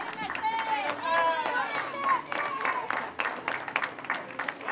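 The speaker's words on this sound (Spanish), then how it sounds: "Un fort aplaudiment per ella." A crowd claps and cheers in steady applause while an announcer keeps talking over it through a loudspeaker at a women's five-mile race in Valldoreix.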